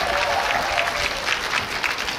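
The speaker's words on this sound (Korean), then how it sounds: "우리 객석에 계시는 팬 여러분들이 박수 뜨겁게 한번 보내주셔야지" Warm crowd applause rolls through a concert audience of fans at an outdoor regional performance, a brief steady wash of clapping.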